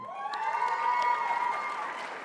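An awards event crowd at the Arkansas Business 40 Under 40 applauds, with loud whistles and hooting cheers ringing over the clapping for a couple of seconds.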